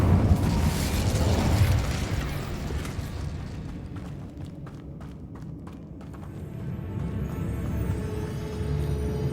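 A fire spell burst cast in the game Hogwarts Legacy, a loud roaring whoosh with explosive crackle that swells, dips and surges again across the clip amid game effects.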